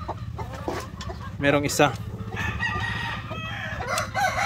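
Upgraded native chickens on a farm cluck and a rooster crows close by, with someone speaking briefly over the birds.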